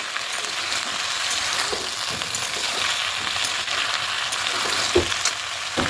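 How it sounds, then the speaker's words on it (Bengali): Potatoes fry lightly in oil in a pan for an eggplant and potato dish, a loud, dense, even sizzle that holds throughout with faint stirring. "এবার আলুটাকে হালকা করে ভেজে নেবে।"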